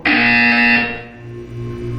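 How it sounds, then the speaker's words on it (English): Loud buzzer from the Portal 2 video game, a harsh bright tone held for about three quarters of a second before fading, followed by a lower sustained hum. "You will hear a buzzer"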